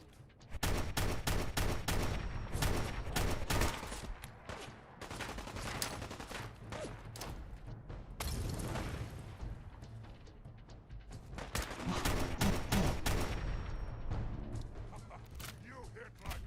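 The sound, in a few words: gunfire in the video game Fallout 4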